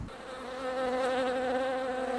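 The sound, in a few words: bees buzzing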